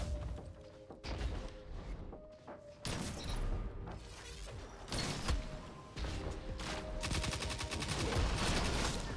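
Destiny 2 gunfire comes in rapid bursts and single loud shots, clustered then pausing briefly, close and sharp, building to near-continuous firing toward the end, alongside metallic mechanical clicks.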